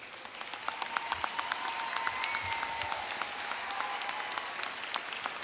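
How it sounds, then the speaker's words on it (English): Audience applause fills the hall at El Centro College's 2017 commencement ceremony, a steady wash of many hands clapping at moderate distance for several seconds with a faint musical tone underneath. "the directorship of Major Calvin Thompson, a solid round of applause."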